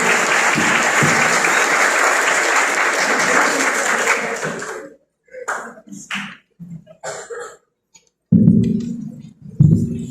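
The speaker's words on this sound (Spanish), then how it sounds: "Vamos a brindarle fuertes aplausos nuevamente al doctor Edgardo Quispe Villanueva" A university law faculty audience gives loud, dense applause for about five seconds, which stops abruptly, followed by scattered rustles, a few coughs and brief bursts of voices.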